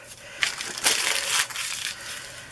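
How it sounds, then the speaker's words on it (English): Close, crackling rustle of thin tissue paper being crumpled in bursts for a couple of seconds, with no voices. "just crumple it up"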